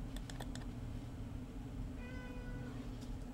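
A cat meows once, faint and close, with soft computer keyboard typing clicking in the background.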